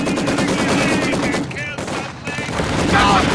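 Loud rapid machine-gun bursts rattle continuously in the World War II strategy game Company of Heroes 2, with game voices faintly mixed under the firing.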